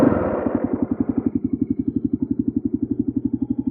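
A moped engine pulling away in first gear on a rally-raid route in Algeria, its single-cylinder putter loud and close, settling into a fast, even chugging rhythm with no voices.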